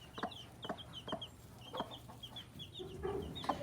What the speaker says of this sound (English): let's see what happens with the chickens on the farm